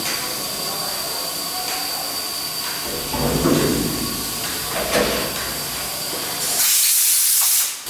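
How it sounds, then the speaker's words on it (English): Steady loud hiss of an air gun blowing clean a powder coating spray gun and nozzles, with a brief surging burst of hissing air near the end over a constant mechanical whine. "They use the air gun to clean the spray gun and the spray nozzles."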